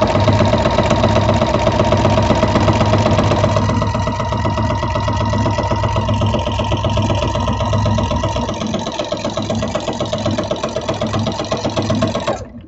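A sewing machine runs steadily while stitching a small Christmas quilt with diamond patterns, its motor whirring loudly and continuously at close range with no voices.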